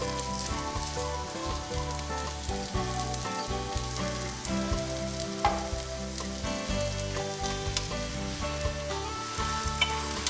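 Banana roti, a Thai street-food pancake of dough folded around egg and banana, frying in hot oil until crisp: a steady close sizzle and crackle with no talk.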